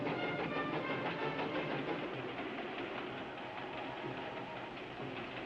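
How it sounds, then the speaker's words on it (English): Trains roll through a desert canyon with a continuous rumbling clatter of wheels and cars, steady and fairly loud throughout with no voices. "Both trains got safely through Coyote Canyon."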